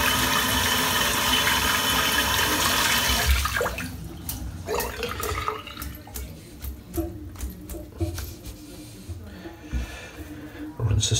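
Running water rinsing shaving soap from a face at a sink, a loud steady gush that cuts off and gives way to scattered drips, splashes and handling noises, close by.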